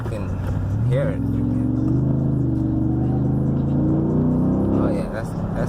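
Jeep SRT8 with a pedal commander throttle controller, heard from inside as the engine gives a sustained, rising roar under acceleration, steady and loud throughout the run.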